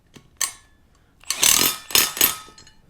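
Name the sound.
lock nut tightened on bolt mounting cable pulley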